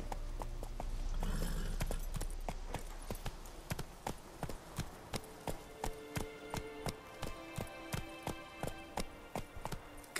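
A horse gallops in The Witcher 3 video game, loud rhythmic hoofbeats clopping in a steady fast pattern after an initial rush, close and clear.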